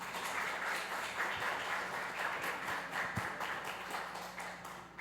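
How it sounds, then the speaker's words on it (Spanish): Audience applause at a sustainability and fashion workshop, a steady wash of clapping that carries evenly throughout without voices. "Un aplauso, por favor."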